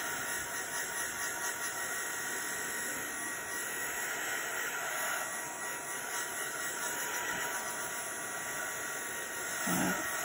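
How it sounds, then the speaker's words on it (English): A heat gun set to low, drying alcohol ink on a craft surface, gives a steady, close, continuous blowing whoosh with a high whine, loud and unbroken throughout with no talk. "I'm just going to put my heat gun on low,"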